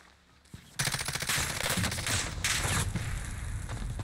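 Automatic gunfire from the video game Call of Duty Warzone: after a brief quiet start, loud rapid machine-gun bursts rattle almost continuously, dense and close, with no talking.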